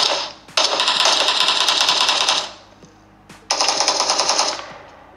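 Automatic gunfire from a mobile shooter game, played against bots on a Snapdragon 8 Gen 1 phone, comes in two loud, close bursts of rapid shots, split by a short quiet gap, without any talking.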